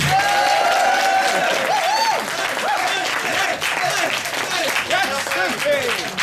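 Loud audience applause and cheering for a stand-up comedian at an inspirations night show, dense clapping from a large crowd with whoops and shouting voices mixed in throughout.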